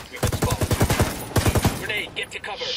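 Automatic gunfire in Ghost Recon Wildlands, two quick bursts of rapid, evenly spaced shots, loud and close, fading into quieter game ambience and small clatters afterward.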